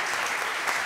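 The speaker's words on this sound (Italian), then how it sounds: "facciamogli un applauso" Studio audience applause at a Zelig comedy show in Italy, a dense, steady burst of clapping from a large crowd filling the whole moment without a break.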